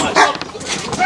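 A security dog barks during a forced eviction from a dwelling, its sharp barks close and loud amid people shouting angrily over it.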